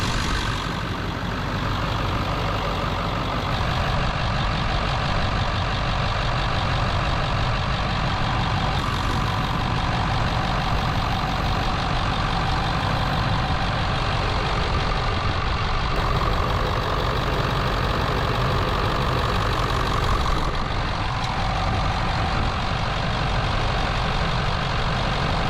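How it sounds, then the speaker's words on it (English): Ford 7.3 Powerstroke diesel pickup idling with the oil cap off to show blow-by, a loud, steady, rough engine rumble and hiss running unbroken throughout with no talk. "let me show you guys what the blow-by looks like on this truck"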